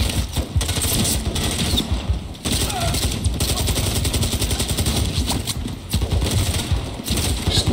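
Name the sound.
gunfire in Call of Duty: Modern Warfare 3 video game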